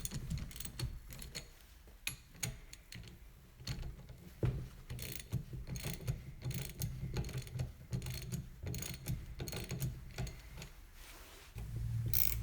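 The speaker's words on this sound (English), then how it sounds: "Loosen the cap bolts while the inner fork tubes are still secured by the steering head." A ratchet loosening the fork cap bolts on a cafe racer motorcycle, with rapid, irregular clicking and ratcheting pawl sounds close by over a low background rumble, running steadily for about twelve seconds.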